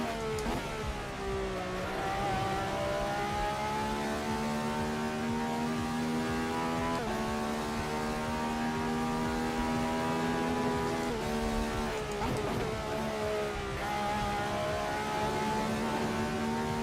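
A V12 engine powers a Radical race car on track in a sim racing game, droning loud and close with steady harmonic tone that rises through the revs and dips at each gear shift.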